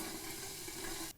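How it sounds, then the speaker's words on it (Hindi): Water heating in an electric kettle after a switch repair, a faint steady hiss and sizzle with a soft tonal hum that cuts off abruptly near the end. "देखिए पानी भी गर्म होने लगा है।"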